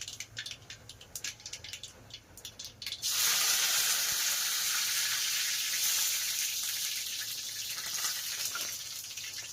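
Curry leaves drop into hot ghee already crackling with cumin and mustard seeds for dal khichdi, setting off a sudden loud, hissing sizzle after a few seconds of quieter spluttering, then holding steady and close.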